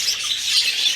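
Young double factor cock bird calling with thin, high chirps that repeat in a quick, faint, irregular twitter.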